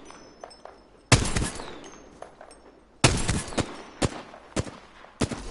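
Apex Legends weapon fire rings out as sharp bursts: a heavy opening shot, then a rapid volley and several scattered single cracks, loud and close, with faint game sounds between them.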